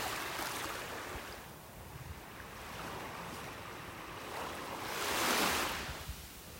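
Surf churning and breaking at a beach in North Naples, Florida, a steady wash of waves with a louder surge near the end, mixed with wind buffeting the microphone.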